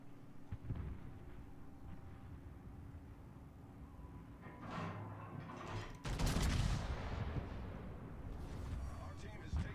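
Warship main guns firing in the video game World of Warships, a heavy booming salvo that erupts partway through over a low rumbling background, with faint voice-like sound mixed in.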